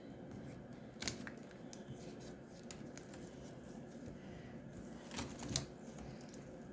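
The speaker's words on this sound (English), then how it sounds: "Now I just gotta cut off all these ends." Scissors snip off leftover yarn ends on a crochet basket: two crisp, close cuts about four seconds apart over a low, steady room hum.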